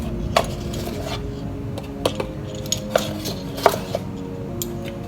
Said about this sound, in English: So let me get just measuring spoons.